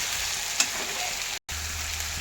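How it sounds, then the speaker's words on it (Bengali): Potatoes fry in a pan with a steady, broadband sizzle, one brief clink of a utensil early on and a very short dropout near the middle. "তা আমি আলুগুলোকে ভালো মতো ভেজে নিচ্ছি"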